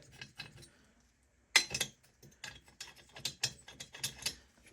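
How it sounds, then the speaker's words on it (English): A ratchet wrench tightens cylinder head bolts on a rebuilt 1974 Honda MT250 engine, giving quiet, close clicking in short irregular bursts with small metallic clinks between them. "these get torqued down to, I believe, 17 foot-pounds"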